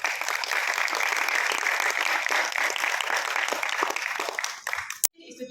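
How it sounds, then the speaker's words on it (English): Sustained applause from a large crowd at a law school client consultation competition, a dense wash of clapping that holds steady before cutting off abruptly near the end. "They deserve all a round of applause."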